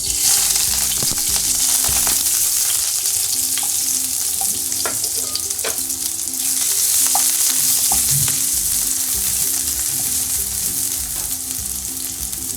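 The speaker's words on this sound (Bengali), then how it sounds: "একটা ফ্রাই প্যান চুলায় দিয়েছি, আর 1 চামচের মতো তেল দিয়েছি। দিলাম পেঁয়াজটা" Onion fries in about a spoonful of oil in a frying pan on the stove, a loud, steady close-up sizzle with crackles and occasional stirring scrapes throughout, no voices.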